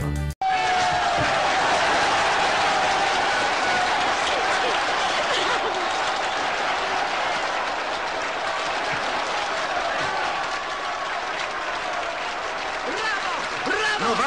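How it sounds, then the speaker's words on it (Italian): Sustained, dense applause from a large crowd, steady and loud throughout, with scattered cheers and voices mixed in. "Due minuti di applausi!"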